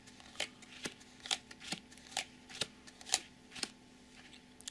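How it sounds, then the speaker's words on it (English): Playing cards snapped down one at a time, about ten crisp flicks at an uneven pace, close and fairly quiet with no talking. "Deal myself five more cards."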